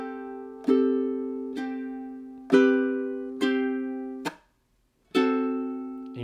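Ukulele strumming a measure of a song, five separate chord strums each ringing out and decaying, with a brief silence before the last, close and alone.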